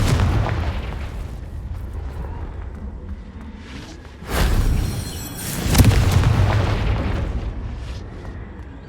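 Two heavy blasts from the Confringo spell in the Hogwarts Legacy video game, a sudden boom followed by a second, louder burst that rumbles on over a dense background of in-game ambience.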